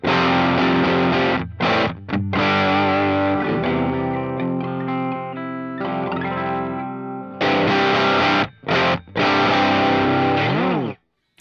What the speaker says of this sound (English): It also has a bass drive sound,